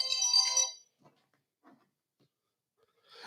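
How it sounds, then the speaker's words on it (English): A smartphone ringtone trills loudly and close for under a second, leaving near silence broken by a few faint soft knocks, before the ringing starts again at the end. "If you heard my phone ring"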